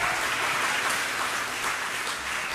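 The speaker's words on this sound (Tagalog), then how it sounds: "Palakpak kakabsat." Church congregation applauding during a Sunday morning worship service, a dense, steady wash of clapping that fills the space from start to finish without a break.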